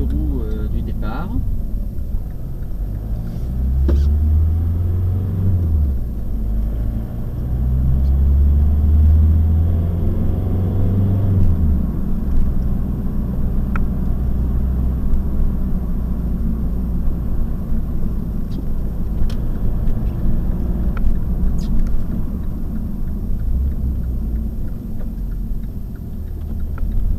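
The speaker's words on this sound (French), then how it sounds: "Là, ce sont les premiers tours de roue du départ." An Opel Vectra 2.0 DTI diesel car, 100 hp, pulls away from a cold start, a steady low engine rumble rising and falling as it moves off, close and continuous, with brief ticking noises over it and a voice speaking at times.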